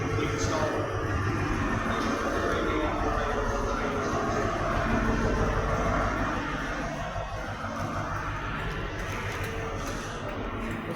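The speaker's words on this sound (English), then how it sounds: "Please do remain behind the other line until the train is completely stopped." A train pulls into a station in Exeter, a steady low rumble of wheels and engine filling the platform, easing a little in the final seconds.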